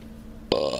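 A single close burp erupts abruptly after a stretch of quiet room tone, voiced and sustained for a moment before cutting off.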